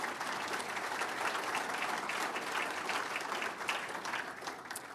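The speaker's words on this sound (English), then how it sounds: "give yourselves a round of applause for standing up for Ohio" A crowd at an industry awards celebration applauds steadily, dense and loud clapping holding throughout with no voices above it.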